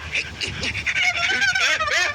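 Loud honking bird calls, goose-like, sound in a room, repeated and close, with a busy background of other sounds.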